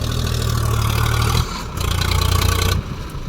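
A John Deere tractor engine running in a field while levelling farmland: a loud, steady low diesel drone with a pulsing throb that dips briefly and swells again, close by.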